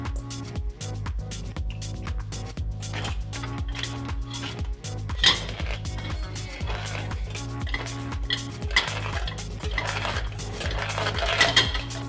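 Rhythmic clanking and scraping as cooked potatoes are mashed in a pot, steady metallic knocks of a masher against the pot over a low hum, with no talk.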